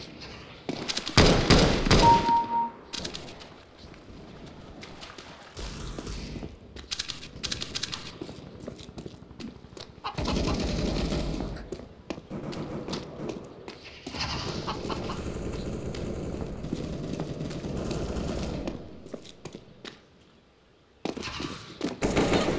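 Rapid bursts of gunfire ring out in a Counter-Strike: Global Offensive match, with several clusters of shots separated by quieter gaps, fairly close and sharp.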